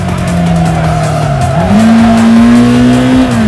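A car drifts in the Assetto Corsa racing game, its engine note climbing as tires squeal in a sustained, loud screech, close and with no voices.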